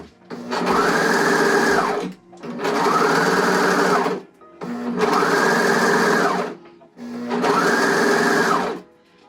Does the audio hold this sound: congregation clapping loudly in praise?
no